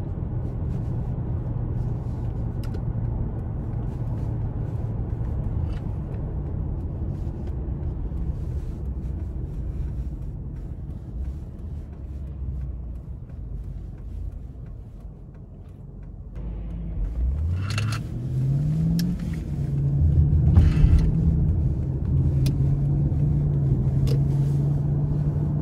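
A 2012 Lexus LS 460 AWD with 120K miles cruises with a low, muffled cabin rumble, then pulls away hard, engine tone climbing and dropping smoothly through seamless upshifts as speed builds.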